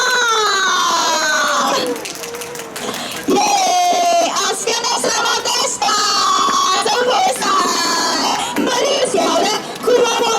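A crowd at the start area of the ASICS Kumamon Run 2025 in Hong Kong cheers and shrieks loudly and almost continuously, with horn-like tones threaded through the noise.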